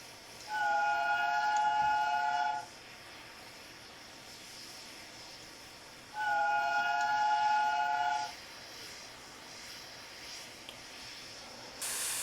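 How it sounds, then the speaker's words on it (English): The Flying Scotsman steam locomotive's whistle in Train Simulator Classic gives two loud, steady, harmonic blasts about two seconds long, spaced several seconds apart over a quiet hiss. "Let's have a listen to the whistle."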